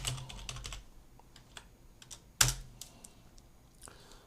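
A few scattered keystrokes on a computer keyboard entering a shortcut, close and soft, with one sharper, louder key press partway through and no talking.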